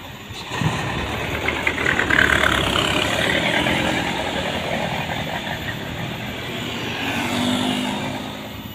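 A TKM bus engine runs and pulls away from a roadside on a mountain road, a steady mid-distance motor rumble that swells as it departs, with traffic noise around.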